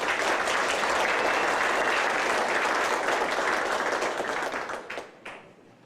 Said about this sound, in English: let's give these kids one more round of applause, please